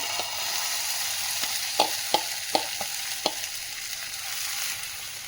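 A steady sizzle rises from a mixture of Palakkadan matta rice and grated coconut on a hot tawa, with a few sharp clicks of a spatula against the pan.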